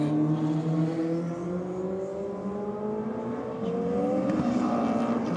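A wide-body Mitsubishi Evo and a purple Toyota MR2 launch side by side in a drag race, their engines revving with climbing tones that rise and hold, then surge again near the end, loud and close.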